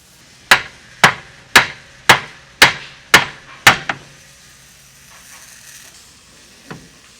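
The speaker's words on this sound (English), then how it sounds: "tap the knuckle in the tapered section for the upper ball joint" Seven sharp, evenly spaced hammer blows ring out close up against a CFMOTO UForce U10 Pro steering knuckle's tapered upper ball joint seat, followed by a quiet pause and one faint later knock.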